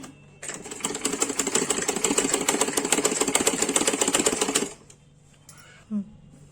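Double-stitching old clothes on a sewing machine: one continuous, close, loud run of rapid stitching lasting about four seconds, then it stops and a small soft thump follows.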